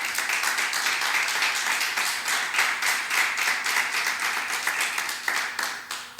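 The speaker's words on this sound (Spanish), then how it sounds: "Den un fuerte aplauso a Dios por su palabra" A church congregation claps loudly and steadily for about six seconds during a Spanish-language sermon, a dense, close, continuous patter that tapers slightly at the end.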